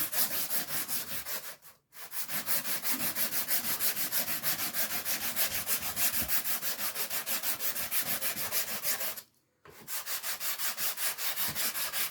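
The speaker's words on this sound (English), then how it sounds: "take a little block of wood. I'll do it this way, that way I'll hit the high spots. This is just a piece of 120 grit." A wooden block wrapped in 120 grit sandpaper is rubbed by hand along a wooden piece in steady, rhythmic back-and-forth strokes. It sounds close and continuous, with two brief pauses.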